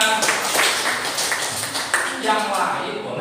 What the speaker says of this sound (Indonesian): tepuk tangan untuk diri Pak